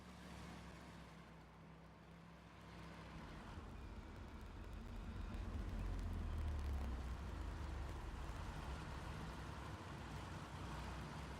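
A tank's engine rumbles in Hell Let Loose, a deep, steady low drone that swells a little louder midway and holds without a break.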